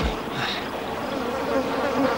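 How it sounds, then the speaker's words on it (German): Mosquitoes and other insects buzzing in a swamp in an animated cartoon, a steady close droning hum that fills the whole short stretch with no voices over it. "Ich kann Sümpfe nicht ausstehen. Überall Mücken und blödes Ungeziefer."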